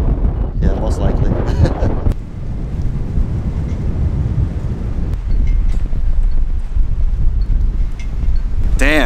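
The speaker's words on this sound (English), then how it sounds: "Damn, it is windy." Strong wind buffets the microphone on a San Diego fishing trip in extremely windy conditions, a loud, continuous low roar with gusty surges throughout, briefly broken by a voice near the start.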